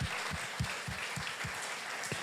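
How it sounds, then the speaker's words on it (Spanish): A church congregation claps in a steady rhythmic beat, with sharp evenly spaced hand claps ringing out over a diffuse wash of crowd applause at moderate distance. "Y le damos un fuerte aplauso a la palabra de Dios."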